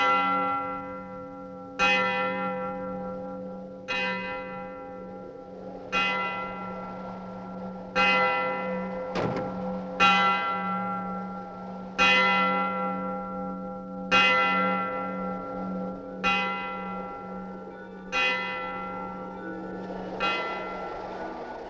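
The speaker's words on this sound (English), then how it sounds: "did you hear the bell?" A church bell tolls about eleven times, once every two seconds or so, each strike ringing out and slowly decaying into the next, heard clearly with no talk in a 1947 film scene.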